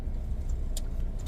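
A car rolls slowly into a parking spot at a hot springs, its engine a low steady rumble close by, with a faint jingle of keys over it.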